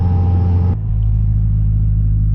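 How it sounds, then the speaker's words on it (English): A Honda car engine, freshly built and paired with an LS transmission, idles loud and close with a steady low rumble, then settles into an even, lower drone after a brief shift in tone. "This motor runs way smooth than the other one."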